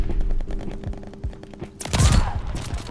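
Gunfire from a sniper rifle in the video game Call of Duty: Vanguard, with a rapid run of faint shots followed by a loud, close blast and its echoing tail.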